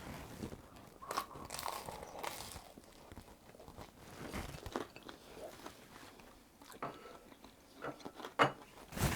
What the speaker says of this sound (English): The edge is nice and crunchy, as you may have heard when I bit into it